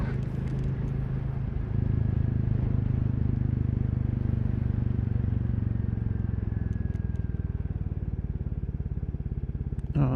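A Royal Enfield Classic 350 motorcycle being ridden on open roads, its engine holding a steady low drone with wind rush throughout and a brief rise in loudness early on; no one speaks.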